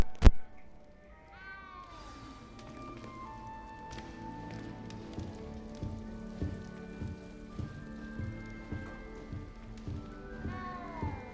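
Cat meowing in a Hogwarts video game, a few short cries over a patter of rain and soft tapping, with a brief sharp click at the start and faint background sounds.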